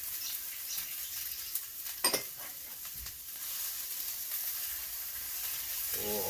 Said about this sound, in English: we're going to brown off some onions, like so,